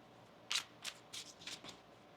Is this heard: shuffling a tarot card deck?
yes